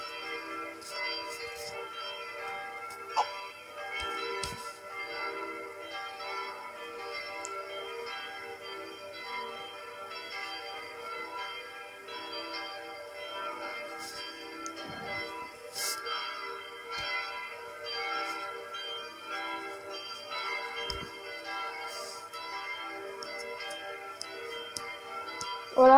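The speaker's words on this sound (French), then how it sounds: "vous avez écouté le plénum, donc vraiment belle sonnerie" Full peal of the five bells of the Sainte-Étienne chapel in Sully, including a bourdon, ringing together in a dense, continuous wash of overlapping tones that holds steady for the whole span, heard from a moderate distance.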